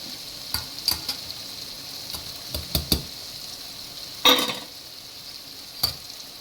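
Boiled dal goes into a hot tadka pan for Punjabi dal fry, with steady sizzling under a series of spoon knocks and scrapes against the pan, one louder splashy clatter midway.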